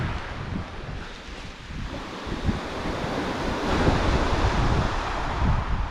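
Surf and wind on a Norfolk coast beach, a steady broadband wash of waves with gusting wind buffeting the microphone, swelling slightly louder toward the end, no voices.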